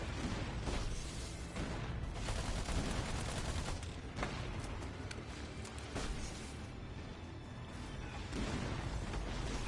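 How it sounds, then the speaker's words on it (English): Rapid gunfire and dull grenade blasts in a video game battle, a dense, continuous barrage of overlapping shots and booms at moderate volume with no pauses. "Oh, grenades."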